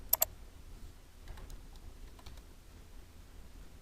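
A couple of sharp computer keyboard keystrokes at the start, then faint scattered clicks over a quiet room background.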